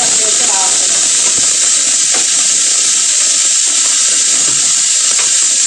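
Beef fry ingredients sautéing in a pan on a raised flame, a steady loud sizzle and hiss with faint stirring scrapes, running continuously without pause.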